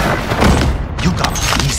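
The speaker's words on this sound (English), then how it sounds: "We're taking fire!" Gunfire and booming blasts in the Call of Duty video game, a dense, loud burst of shots and thuds lasting under two seconds, mixed with game voice chatter.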